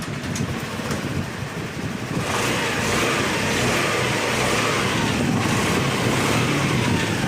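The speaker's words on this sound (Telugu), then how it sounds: "ఓకే, ఇప్పుడైతే మనం బండి స్టార్ట్ చేద్దాం." A Honda Dio scooter engine starting up and idling during a repair of damaged ECU wires, a steady close running drone that thickens after the first couple of seconds, with no talk.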